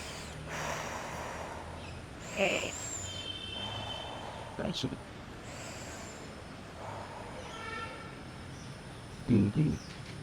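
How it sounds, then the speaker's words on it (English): Breath is drawn in and pushed out through the mouth as a breathing exercise, with a few audible airy gasps and puffs over a noisy background. "Three times inhale through the mouth, exhale through the mouth"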